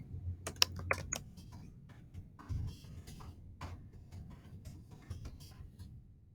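Fingers tapping out a title on a computer keyboard, a quiet run of uneven clicks with short pauses, alone with no talking.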